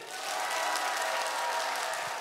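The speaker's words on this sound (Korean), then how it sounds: "박수 함성 연습 한번 하고 갈게요" Church congregation of about 1,700 people at a family worship service applauding and cheering, a dense steady wash of clapping and shouts sustained throughout.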